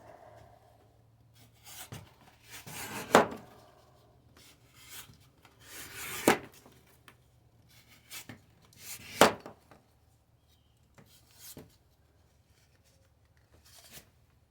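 A budget steel knife slices through cardboard, giving quiet intermittent rasping cuts in short bursts, with several sharper scraping strokes spaced a few seconds apart.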